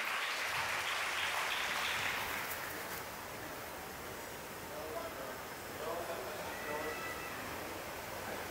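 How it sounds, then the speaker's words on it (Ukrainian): Warm applause from an audience at a nasheed evening concert, fairly soft and distant, swelling briefly at first then settling into a quieter, rustling clatter of many hands. "Давайте поприветствуем его также самыми теплыми и искренними аплодисментами."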